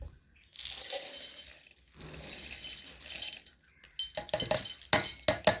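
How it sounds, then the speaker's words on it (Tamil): Ground rice and cardamom are tipped into a mixer jar in bursts of rattling, pouring grains and small clinks against the jar, close and fairly loud, with short gaps between the pours. "இப்போ நான் இதை வந்து இந்த மிக்சி ஜாரில் போடுறேன்."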